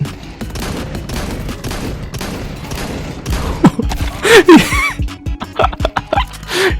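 Rapid gunfire bursts and shots from the video game Counter-Strike 2, dense and loud throughout, with voices chattering and laughing over the action in the second half.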